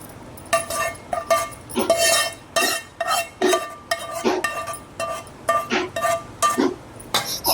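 Metal spoon clinking and scraping against a pan while stirring lemon rice, a quick series of sharp near clinks and scrapes in irregular rhythm, with no talking.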